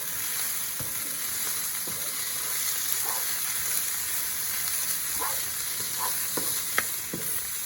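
Ground turkey sizzling and frying in a pan for tacos, a steady dense hiss with occasional soft stirring scrapes, close and continuous without talk.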